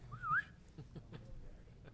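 A short rising-and-falling whistle rings out once near the start at a city council meeting, faint and brief, followed by quiet rustling.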